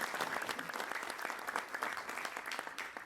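Sustained applause from a large audience at a college graduation ceremony, a dense steady wash of many hands clapping that continues evenly without pause, fairly close and filling the space.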